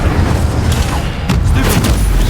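A fire spell is cast in the video game Hogwarts Legacy, producing a loud, dense burst of booming, roaring flame that holds steady and forceful from start to finish.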